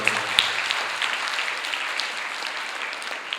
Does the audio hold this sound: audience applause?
yes